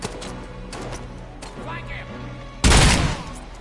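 A loud burst of gunfire in Robocop: Rogue City erupts near the end, preceded by softer game sounds and background speech.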